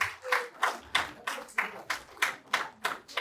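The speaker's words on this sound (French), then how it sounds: "Applaudissez pour la vice-présidente." Rhythmic clapping from an audience applauding the vice-president at a Mother's Day celebration of an African women's association, beating in unison about three times a second, fairly close and loud.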